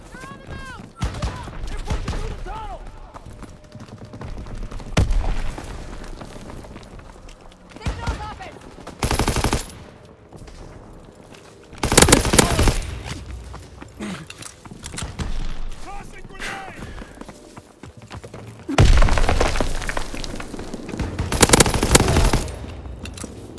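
Heavy automatic gunfire in a video game battle, loud bursts of machine-gun fusillade arriving in several intense waves between quieter stretches, with voices calling out over the fighting.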